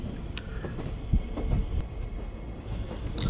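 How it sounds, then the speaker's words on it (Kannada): Passenger train running with the steady rumble and rattle of a sleeper class carriage, heard from inside, with occasional clunks and faint squeaks over a continuous low roar. "ಇದು ಪ್ಯಾಸೆಂಜರ್ ಟ್ರೈನ್ ಆದ್ರೂ ಸ್ಲೀಪರ್ ಕ್ಲಾಸ್ ಇದೆ"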